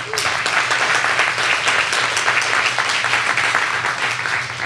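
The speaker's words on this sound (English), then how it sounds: "Everyone give Kasper a big round of applause." A conference audience at SOBCon NW gives Kasper a big round of applause after his talk on the Podio startup story: dense, loud crowd clapping that holds steady and close for the whole stretch.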